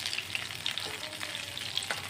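Stuffed bitter gourd (bhat kerela) coated in cornflour and rice flour frying in a pan, with a steady close crackling sizzle of oil and small sharp pops throughout, no voices.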